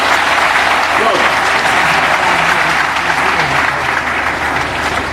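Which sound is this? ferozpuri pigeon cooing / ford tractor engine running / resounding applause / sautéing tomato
resounding applause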